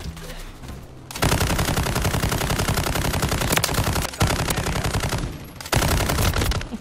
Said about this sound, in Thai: ยิงฟูลออโต้รีคอยอาจจะดิกนิดนึงก็คงไม่นิดนึงเท่าไหร่แหละ